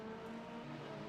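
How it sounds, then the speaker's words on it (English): GT4 race car engines droning steadily in the iRacing sim during the Daytona 24 Hour race, a faint, even tonal hum that sounds distant and holds for about a second with no talk. "they got the GT4 cars either warming up or running now"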